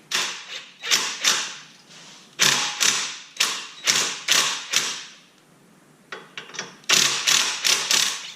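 A 14 wrench works on the ball joint of a Nissan Versa Note, giving a close run of rhythmic ratcheting strokes in repeated bursts, one short pause partway through, with no talk.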